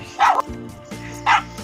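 A dog at its owner's house in Madhya Pradesh gives two sharp, loud barks about a second apart, close by, over a low background hum.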